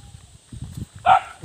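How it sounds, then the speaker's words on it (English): A dog barks in a short loud burst near the end, after a stretch of low rumbling and footsteps on an outdoor walk where a goat is nearby. "still barking as usual"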